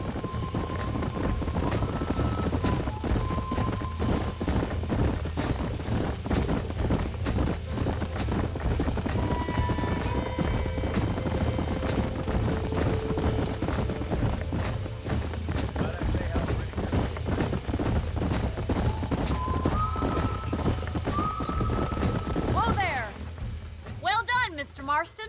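Horse hooves gallop in a steady, fast rhythm across open ground in the video game Red Dead Redemption. The hoofbeats run continuously under voices talking, and a rushing sweep comes near the end.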